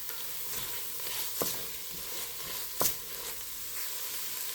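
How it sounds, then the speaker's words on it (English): Garlic hits a hot pan for clam and scallop chowder and sizzles in a steady, bright crackle, with two sharp utensil clacks as it is stirred. "I'm going to add all that garlic"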